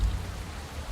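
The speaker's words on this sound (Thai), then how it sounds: "ฝนตก ด้วย" Steady rain hisses across the whole moment over a road, a dense wash of drops with a low rumble underneath and no voices.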